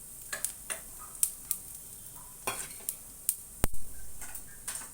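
Mustard seeds and cumin crackle and pop in hot oil in a pan as tempering for boondi curry, with scattered sharp isolated pops and ticks over a quiet background hiss.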